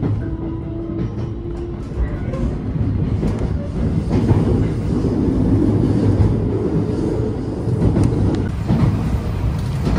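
A local passenger train pulling out of Ayabe station, a loud steady rumble of wheels and running gear heard from inside the carriage, building gently over ten seconds with faint rhythmic rail clicks and no talking.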